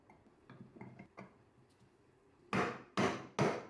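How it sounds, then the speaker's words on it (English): A rubber mallet taps a gear cover into place on a DeWalt saw: several light knocks, then three loud, sharp close strikes in quick succession. "Install the cover, which for me required alternating between strikes with a rubber mallet"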